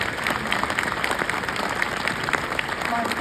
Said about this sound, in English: I think I want to applaud that.